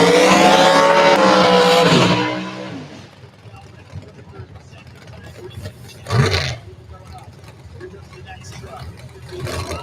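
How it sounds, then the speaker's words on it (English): A drag racing car blasts down the strip at a Mid-West Drag Racing qualifying session in Houston, a loud rising engine roar that lasts about three seconds, then fades into quieter track noise with a brief later burst. "Great drag racing."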